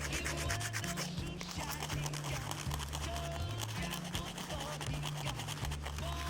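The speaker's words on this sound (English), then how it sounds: "You repeat the process again by nail filing over the last bit of glue there." A nail file rubs over leftover glue on a false nail, making a continuous close, gentle rasp in quick back-and-forth strokes over a low steady hum.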